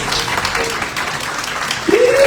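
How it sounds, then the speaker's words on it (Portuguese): Steady crowd applause from a church congregation, a dense wash of clapping throughout, with a sustained rising tone entering near the end. "Aplauda o Senhor."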